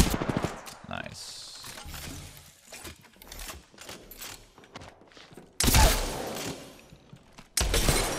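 Shotgun blasts from Apex Legends gameplay, loud broadband bursts near the end alongside other game gunfire and impacts, with voices talking over parts of it.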